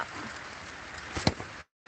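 Heavy rain pours steadily as a dense, even hiss around a home garden of ornamental caladium plants, with one sharp knock near the end before the sound cuts out abruptly.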